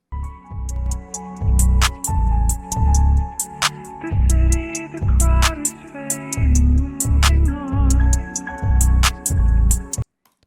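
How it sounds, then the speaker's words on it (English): Interlude beat track built on piano with vocal chops from Tokyo Ghoul, pulsing heavy bass hits in a steady pattern under bright chopped vocal tones and percussion, stopping abruptly at the end. "on the middle of the track just left vocal chops from Tokyo Ghoul"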